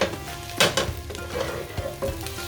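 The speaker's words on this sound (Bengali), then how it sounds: "আমি পেঁয়াজগুলোকে সুন্দর লাল করে ভেজে নিয়েছি অল্প তেলে" Onions fry in a little oil for mutton bhuna with a close, steady sizzle broken by several sharp spoon scrapes and stirring clinks against the pan, with no voices.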